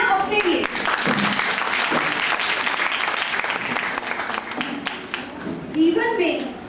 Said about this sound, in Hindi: तो जोरदार तालियां अपने लिए।